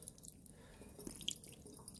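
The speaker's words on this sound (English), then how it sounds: "get some water to moisten this a little bit" Water drips onto an endospore-stained microscope slide at a lab sink, a few soft, faint drips and light splatters against quiet background.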